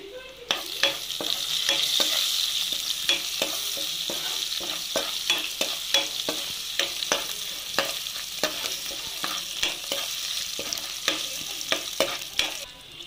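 Spices sizzle steadily in hot oil for a tadka to season karonda dal, a constant frying hiss broken by repeated sharp scrapes of a stirring spoon against the pan.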